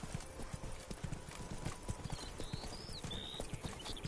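Horse hooves galloping in The Witcher 3, a quick steady clip-clop rhythm kept low and continuous with a faint whinny-like tone over it, no talking.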